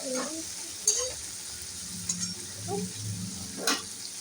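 Food fries quietly in a pan while cooking sesame-and-bean paturi, a faint low sizzle with occasional clinks and knocks from stirring and a soft voice murmuring in the background.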